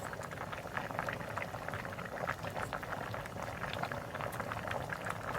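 Pickled bamboo shoot curry with catfish simmers in a pot, a steady close bubbling and gurgling of boiling broth that runs evenly throughout with no other sound on top.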